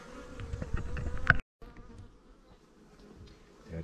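Honeybees buzzing in a garden, a dense close drone that cuts off abruptly partway through, then returns as a fainter, thinner hum.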